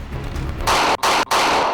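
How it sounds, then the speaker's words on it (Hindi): After a quiet rumble, loud harsh bursts of gunfire erupt close by, broken by two brief pauses. "गोलियां बरसने लगीं।"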